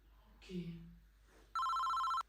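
A telephone rings with an incoming call, one steady electronic ring tone bursting in loudly after a short spoken prayer and a pause.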